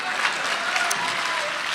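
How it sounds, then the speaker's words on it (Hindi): A short burst of steady audience applause at a Hindi poetry recital, many hands clapping together at close range. "हाँ, तालियां बजा सकते हैं, कोई संकट नहीं"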